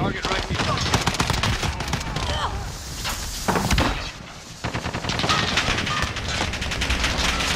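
Rapid automatic gunfire in Call of Duty: Modern Warfare, dense, loud bursts of close shots running almost continuously, with a brief lull midway and voices talking over the shooting.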